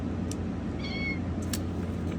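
A house cat lets out a single short, faint meow against a quiet indoor background hum.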